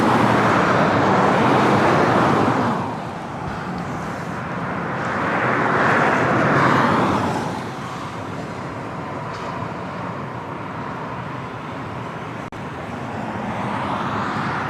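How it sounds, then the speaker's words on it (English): Alaska Airlines Boeing 737-700 arriving at LAX from San Francisco, a broad jet roar that swells, fades and swells again amid distant traffic noise, loud and continuous with no talking. "The next arrival is Alaska Airlines Flight 427 coming in from SFO on the 737-700"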